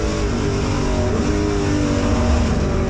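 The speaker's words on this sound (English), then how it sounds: "Watch them accelerate out of the turn 5 seat onto that Andretti straightaway" NASCAR Pinty's Series stock cars at Canadian Tire Motorsport Park accelerate out of a turn onto a straightaway, a loud, continuous roar of several engines with overlapping rising tones, steady and close throughout.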